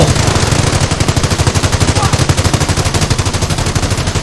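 Machine gun fire in the Company of Heroes video game, a loud, dense, rapid rattling burst that runs continuously for several seconds amid battle noise.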